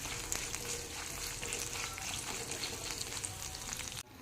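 Black pepper and curry leaves fry in a pan for an Onam kootu curry, giving a continuous close sizzle with light scraping as they are stirred, ending abruptly near the close.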